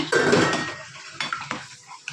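Spoon scraping and stirring in a metal pot as grated coconut is mixed into green gram dal vermicelli payasam, with a burst of clinking at the start, then a few sharp knocks spaced apart.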